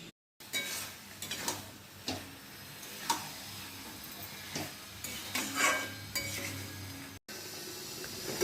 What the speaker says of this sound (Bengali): এবার আমি মাটনটা দিয়ে দিলাম। মাটনটা দেওয়ার পরে ভালো করে কষিয়ে নিতে হবে।